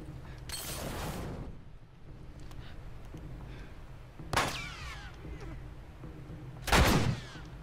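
Three loud, booming hand cannon shots in The Last of Us go off a few seconds apart, each with a sharp crack and a rumbling tail, over a steady background hum.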